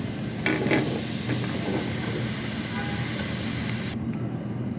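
Vegetables dropped into spice paste frying in a pan, giving a steady close sizzle with a burst of stirring clatter early on before the hiss settles and briefly cuts off near the end.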